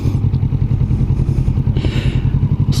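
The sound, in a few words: Kawasaki Vulcan S 2021 motorcycle engine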